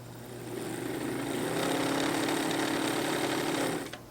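An older Pfaff Hobbymatic sewing machine with dry, suspect gears runs noisily, giving a loud, steady mechanical drone with a gritty rattle that swells up, holds, then cuts off near the end.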